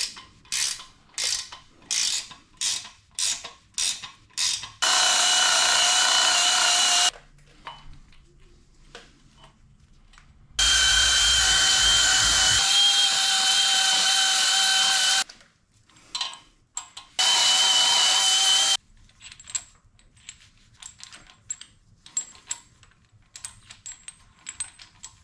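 Bolts on Ford 8.8 rear end braces are tightened with a ratchet, rapid clicking bursts alternating with long steady power-tool whirs and short pauses, close and loud.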